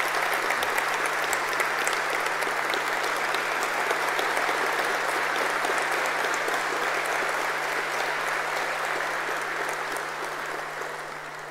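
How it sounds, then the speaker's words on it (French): Sustained applause from a ceremony audience after the reading of a political consultation report, a dense, steady wash of many hands that holds for most of the stretch and begins to thin slightly toward the end. "Sous vos applaudissements, s'il vous plaît."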